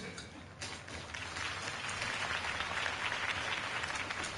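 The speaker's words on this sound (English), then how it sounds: "could have heard that applause" Sustained applause from a crowd in a Batman video game, a dense wash of clapping that swells after a moment and holds steady, heard from a distance.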